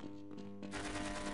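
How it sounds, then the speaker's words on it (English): Gunfire at soldiers in the Half-Life mod Peaces like Us: a dense, loud burst of rapid automatic shots that builds into continuous firing. "start shooting, dude. At the soldiers."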